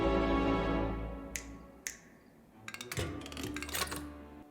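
Two crisp finger snaps sound close and alone, followed by a stretch of rustling, clattering noise.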